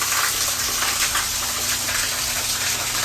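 Water pours steadily into a cool, shaded creek pool in Kentucky's Red River Gorge, a continuous broadband rush heard close and alone with no voices.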